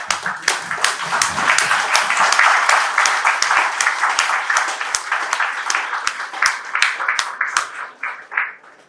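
A crowd applauds steadily for several seconds, a dense wash of clapping that thins toward the end, leaving a few distinct claps.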